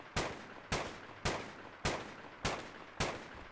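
Gunfire in the video game Rimworld: a steady string of sharp single shots, about one every 0.6 seconds, each with a brief decaying tail, heard alone.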